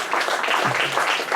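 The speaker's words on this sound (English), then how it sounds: "give them a round of applause." Congregation applause for the elders at a Unity Shabbat service at House of Yisrael of Cincinnati, a dense steady patter of many hands filling the room close by, with a faint voice murmuring underneath.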